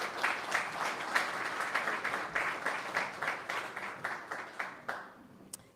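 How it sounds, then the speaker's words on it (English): A modest conference audience applauds a speaker, steady overlapping clapping at moderate distance that thins out into a few final claps. "let's give Jessica a round of applause"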